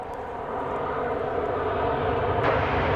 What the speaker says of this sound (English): Flight number 777 is incoming next.